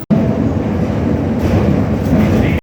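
A Berlin metro train rumbles steadily through a station, a loud, continuous low roar that stays dense and even for a couple of seconds before cutting off abruptly.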